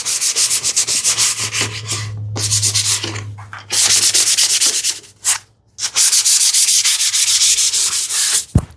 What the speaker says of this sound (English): I'm still using the same small piece of sandpaper right now.